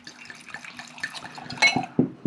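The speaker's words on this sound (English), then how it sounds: "No, you pour first this time." Red blend wine pours from a bottle into a glass with a soft liquid gurgle and splash, followed by a few light clinks, close and fairly quiet.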